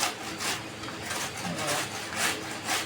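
Raw mango being grated on a large kitchen grater: a continuous rough rasping scrape with rhythmic strokes roughly every half second, close and moderately loud, with no voices.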